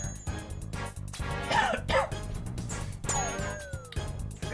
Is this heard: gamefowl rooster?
no